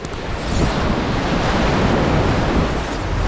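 Ocean waves break steadily on the beach at Playa Los Frailes in Ecuador, a loud, continuous wash of surf with rushing hiss, heard up close with no voices.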